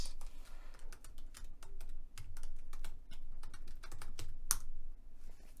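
Rapid, steady keystrokes on a computer keyboard as a root password is typed into an SSH login prompt, a close run of light clicks with no voices.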